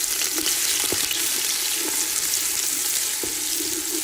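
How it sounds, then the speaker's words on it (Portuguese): Onion browns in a pan, a loud, steady hiss of frying fat close up with occasional small pops and stirring scrapes, no voices over it. "Nós vamos dourar um pouco essa cebola."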